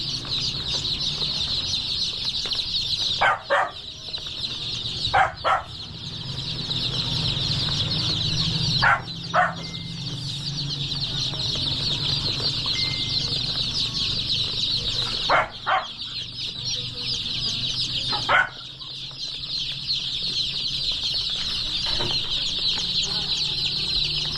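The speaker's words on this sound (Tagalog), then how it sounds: "Pipili na tayo ng magiging alaga nating sisiw." A crowd of baby chicks peeps continuously in shrill high chirps, close and loud, broken by a few brief rustles and knocks, with no talking.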